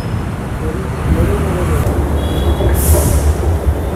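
Loud, steady rumble of a Bangalore metro train at a station, a continuous low roar with rolling rail noise and a brief high hiss near the end, close and unbroken.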